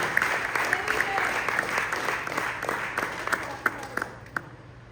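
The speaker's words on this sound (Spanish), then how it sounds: "Den un fuerte aplauso al Señor en el nombre de Jesús." A church congregation breaks into sustained applause, a dense wash of clapping from a crowd in a large room, steady for several seconds and tapering slightly at the end.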